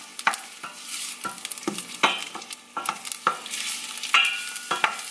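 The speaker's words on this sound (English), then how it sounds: "Add your onions so they can start sauteing." Onions sauté in oil in a pan, a soft steady sizzle broken by frequent sharp scraping stir strokes.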